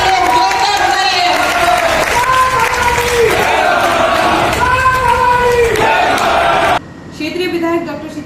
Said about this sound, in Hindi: जोरदार तालियां बजाइए हमारी युवा शक्ति के लिए।